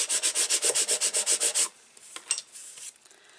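Card stock on a handmade card is rubbed down firmly to stick it in place: quick rhythmic scraping strokes, close and clear, then a pause with a few faint rustles and taps.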